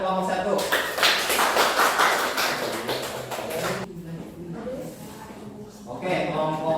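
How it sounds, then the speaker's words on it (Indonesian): Students in a classroom applaud a group with a few seconds of steady, fairly close clapping from many hands, mixed with voices, before it dies down and talk continues. "Oke, tepuk tangan untuk kelompok 1."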